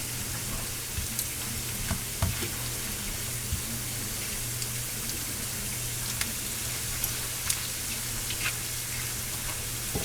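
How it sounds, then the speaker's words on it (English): Tortilla chips frying in oil give off a constant fine sizzle with scattered small pops, heard close and fairly quiet, with a low steady hum underneath. "We're just gonna fry these up until they're crispy"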